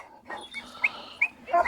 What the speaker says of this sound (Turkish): Tam kangal e, yapılı bir köpek abi.